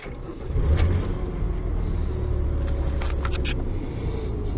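A Ford Explorer engine turns over and settles into a steady low rumbling idle, close and continuous with no voices, its low-end energy swelling just under a second in and then holding.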